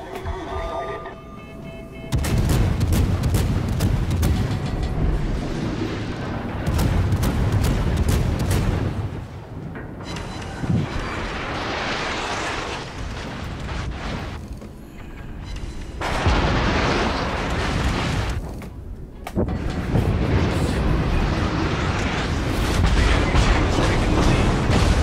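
Heavy naval gunfire and explosions in World of Warships, loud booming salvos rolling almost continuously with brief gaps between barrages.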